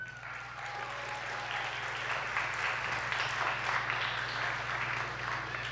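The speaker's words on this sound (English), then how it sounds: "Let's applaud for them." Audience applause for school board trustees at a Bayonne school graduation ceremony, a steady broadband clapping that holds evenly for several seconds at moderate distance, with no voices over it.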